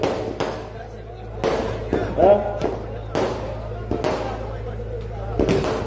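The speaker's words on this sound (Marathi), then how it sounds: "किती वेळ चालणार आहे ते फटाके" Sharp firecracker bangs burst out at irregular intervals at a public rally in Solapur, several loud cracks with crowd noise and a low steady hum underneath.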